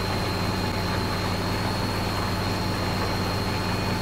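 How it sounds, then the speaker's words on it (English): Tractor engine in Farming Simulator 2013 pulling a load uphill, a loud, steady, continuous low drone with no pauses or voices. "you can hear the engine notes rise as it actually, grunts a little bit more, going uphill, pulling the weight"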